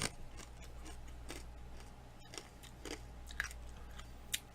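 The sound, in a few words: crunchy ranch-flavored snack being chewed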